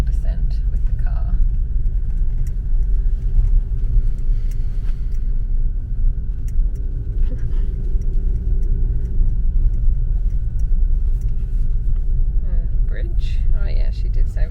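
A car's engine hums and rumbles steadily under hill descent control while descending a slope on a road trip, a continuous low drone with faint whispery voices over it.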